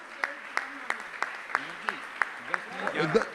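Rhythmic claps ring out at an even beat, about three per second, sharp and distinct, at a religious discourse gathering, with a voice murmuring underneath and rising near the end.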